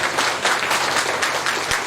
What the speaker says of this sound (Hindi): जब खुशी का माहौल बनता है तो तालियां तो बजनी चाहिए ना